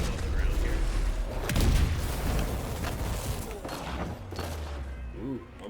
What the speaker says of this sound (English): Those explosions are pretty rough